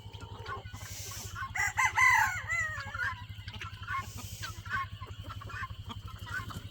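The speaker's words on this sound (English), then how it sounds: "She's waiting on her main rooster." A rooster crows loudly in a busy farmyard, with guinea fowl and other fowl clucking and chattering around it over a steady low hum.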